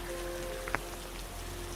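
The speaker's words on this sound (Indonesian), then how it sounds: "hujan" Steady rain falls in a continuous soft hiss, with one brief sharper tap partway through, no voices.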